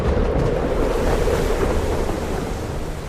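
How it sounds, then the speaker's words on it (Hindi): Rough, stormy sea with heavy waves surging and crashing around a ship caught in a bad storm, a loud continuous roar of water and wind with no voices. "जहाज खतरनाक लहरों से टकराने लगा"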